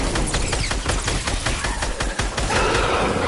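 Rapid bursts of automatic gunfire from the video game Fortnite, dense and loud, firing continuously with sharp repeated shots throughout.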